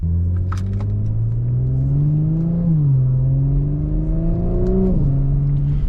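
A tuned Stage 2 Audi S4's engine drones steadily, its exhaust note rising in pitch as it accelerates, briefly dipping between gears, then climbing again.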